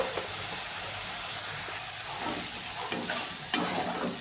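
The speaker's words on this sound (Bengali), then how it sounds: "দিয়ে ভালো করে মশলাটা কষিয়ে নেবো" Spice masala sautéed in oil for a chicken curry hisses steadily while being stirred, with scattered scraping clicks and a sharper knock toward the end, and no one speaking.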